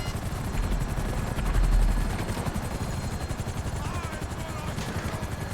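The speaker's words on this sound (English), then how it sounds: "You know what, I'm gonna ditch the helicopter." A helicopter in the video game GTA V, its rotor giving a loud, fast, steady chop close by, with brief gunfire-like crackles mixed in during the heist action.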